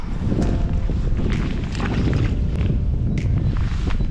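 Constant loud crosswind buffeting the microphone outdoors at a trout fishing area, a heavy low roar that persists throughout with faint knocks and splashes beneath.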